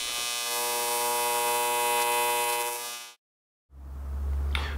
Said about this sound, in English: let's pump all that fuel back out that I put in there